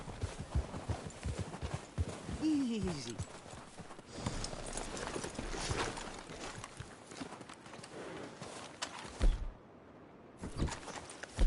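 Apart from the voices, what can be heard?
horses' hooves clip-clopping, from video game Red Dead Redemption 2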